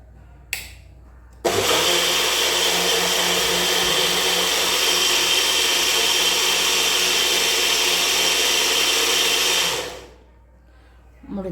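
An electric blender grinds apples for juice, starting with a brief buzz and then a loud, steady, high whirring roar for about eight seconds before spinning down to quiet.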